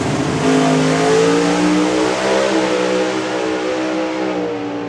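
Turbocharged drag racing car launching down the strip at a national finals event, a loud roaring engine climbing in pitch through rising gear harmonics for several seconds, near and continuous with no talk.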